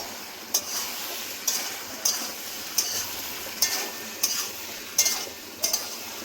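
Tomatoes frying with chili chicken in a pan, a low steady sizzle broken by regular sharp clinks and scrapes of a spoon stirring roughly every half second.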